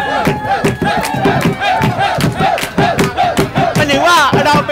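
A crowd at the Ar Siam Luk Thung festival chanting and cheering in loud rhythmic bursts, voices shouting together in a repeated pulsing pattern close by.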